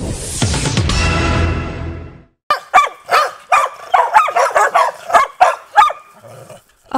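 A dog barks in a quick series of sharp, close yips and barks, after a loud burst of broadband noise at the start.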